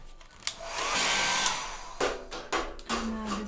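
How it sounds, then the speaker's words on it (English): A hair dryer blows on a watercolor winter painting of snowflakes on a window, a steady loud whoosh that cuts off and restarts in short bursts with a few knocks and clicks between. "Now we'll dry it again and we'll do the snowflakes."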